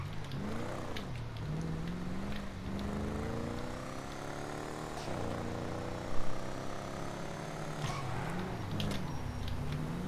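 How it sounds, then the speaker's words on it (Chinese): An Albany Virgo American muscle car in GTA 5 has its engine revved hard at full throttle. Pitch sweeps up and down several times as it accelerates and shifts, with a brief thump of impact near the middle. "油门踩到底的时候会像这样。"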